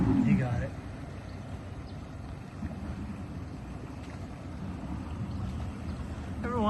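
A motorboat passes on Lake O' the Pines at Upshur Landing, its engine a low, steady rumble at some distance, mixed with wind buffeting and brief voices.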